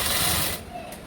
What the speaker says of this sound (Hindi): 2-2 पॉइंट का गैप लेते हुए पूरे जगह से हम सिलाई मार देंगे